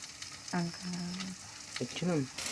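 An egg frying in a wok gives a quiet, steady sizzle, with a few short tonal squeaks or hums over the top.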